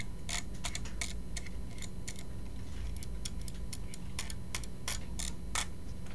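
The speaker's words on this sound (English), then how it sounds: "That is drag clicking." Rapid drag clicking on a computer mouse, bursts of sharp, dense ticking clicks in irregular clusters over a low steady background hum, close and continuous with no talk.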